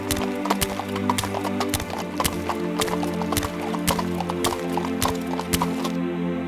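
Donkey hooves clip-clop in a steady, brisk rhythm throughout an animated children's Bible cartoon, sharp repeated clacks over a continuous musical background.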